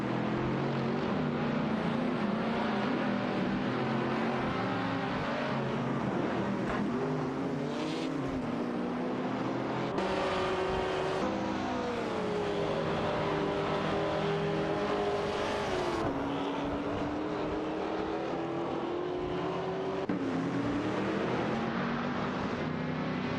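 Racing cars in a video game, a Ford Escort Mark I and a Tiver Griffith 200, engines droning loudly and continuously, pitch rising and falling through gear changes and revs, with no voices.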